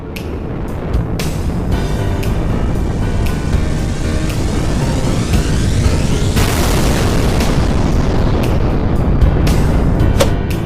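A massive nuclear-like bomb explosion in the anime One Piece booms into a sustained heavy roaring rumble, with a sharp blast surge midway as debris-like noise continues.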